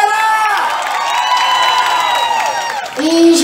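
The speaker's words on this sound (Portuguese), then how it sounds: "E uma salva de palmas aí, galera!" A concert crowd in Copacabana cheers and screams loudly and continuously, with high whoops over the roar and a short surge near the end, distinct clapping barely picked out.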